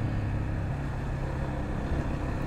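Steady engine drone and road rumble from a Yamaha FZ25 motorcycle running smoothly while being ridden, a continuous, even noise at moderate level with no speech over it.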